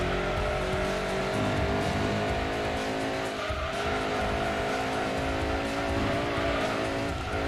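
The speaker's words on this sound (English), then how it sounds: "The poor rev limiter on this car." A racing car engine in Gran Turismo 2 screams steadily at high revs, bouncing against the rev limiter with a sustained buzzing drone and faint tyre squeal, loud and unbroken throughout.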